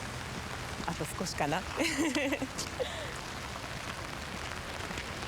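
Rain falls as a soft, continuous hiss on a wet day, steady and fairly quiet beneath someone speaking in Japanese.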